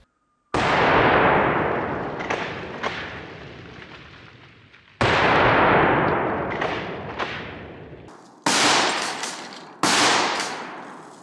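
Shotgun blasts of double-aught buckshot fired into a house wall, four loud close booms with long decaying rumbles, the last two coming in quicker succession.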